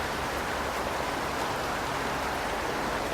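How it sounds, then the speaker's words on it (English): Rain falls steadily on a hillside among tall red cedars, a dense, continuous hiss that stays even and close with no voices or other sounds. "Listening to the rain"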